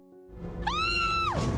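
A single long, high scream rises sharply and holds for nearly a second before breaking off in a drama scene, loud and close over a low background tone.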